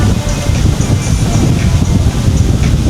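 Strong wind buffets the microphone on Boracay beach at Station 3, a loud continuous rushing roar with low gusty thumps throughout and no clear voices.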